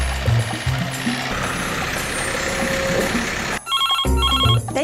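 A telephone rings with repeated electronic trilling bursts over a busy background of engine rumble and noise, fairly loud and close.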